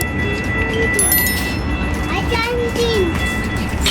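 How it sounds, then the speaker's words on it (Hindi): A train in Calgary rumbles steadily at a station, with faint squealing tones from the rails and wheels over the low drone, while people talk nearby throughout. "This is the train which will go to the downtown."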